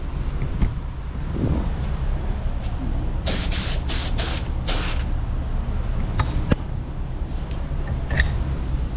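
A budget paint spray gun spraying paint, several short, loud hissing bursts in quick succession over a steady low background rumble.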